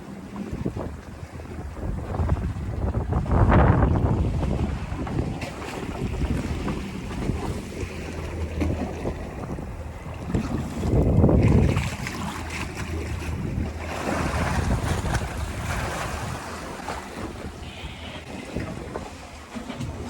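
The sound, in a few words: boat under way in wind and waves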